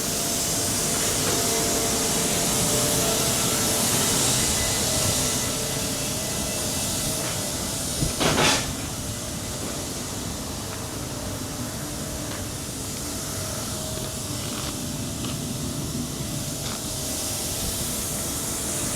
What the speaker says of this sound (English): The noise we can hear that's quite loud in the background is the shop blaster